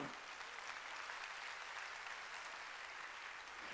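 Applause from a church congregation during a Sunday worship service at Jesus Center Church, a continuous wash of many hands clapping at a fairly soft, distant level with no voices over it.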